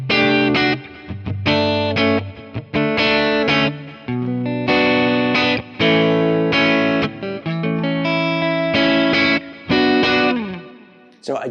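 Clean-ish electric guitar tone with a thinner, bright edge from a coil-split neck pickup on a PRS SE, played in strummed chords and short phrases with brief pauses, ringing out at the end.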